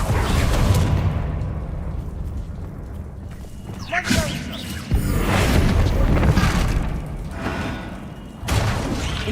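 In the Hogwarts Legacy video game, Confringo blasting spells explode in a series of heavy booms and thuds, each burst followed by a sustained rumble, with a voice calling out over the action.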